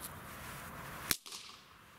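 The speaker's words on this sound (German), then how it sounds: "Weiter mit den Knallziehschnüren." One abrupt crack from a pull-string party snapper bursts out about halfway through. It cuts through a steady low background hiss and leaves a brief silence behind it.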